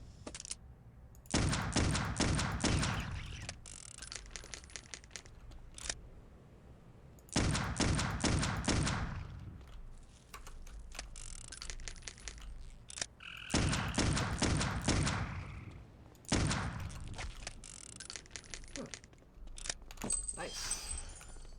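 Gunfire from the video game Clive Barker's Undying comes in several loud, rapid bursts separated by pauses, with occasional talk between volleys.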